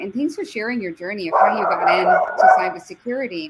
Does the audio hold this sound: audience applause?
no